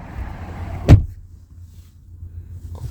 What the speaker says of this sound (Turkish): Şu kapıyı kapatıp göstereyim.